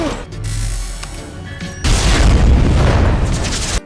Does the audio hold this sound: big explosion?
yes